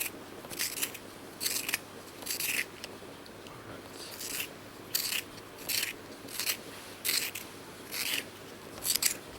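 Exam pencils being sharpened, a close dry rasping grind in about ten short bursts with brief pauses between, crisp and fairly quiet, no talking.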